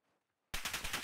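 Rapid automatic gunfire erupts suddenly in the Call of Duty Warzone video game, a loud close burst of repeated shots after a moment of near silence, with no voices.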